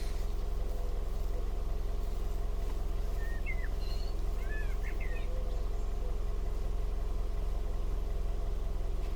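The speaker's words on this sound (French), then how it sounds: "moteur bien chaud, le ralenti, il est beaucoup plus bas encore" A hot 2001 Toyota Yaris engine idles low and steady, giving a constant, even rumble close by, while faint bird chirps sound in the background.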